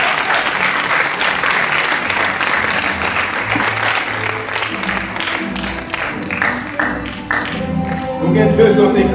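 Loud, sustained applause from a crowd at a theology institute graduation ceremony, with dense clapping and some voices mixed in, swelling again toward the end with sharper, closer claps.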